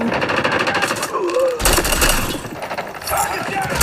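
Shotgun fire in the Call of Duty Mobile video game: dense, continuous blasts and rattling under a voice, with the game audio loud and close throughout.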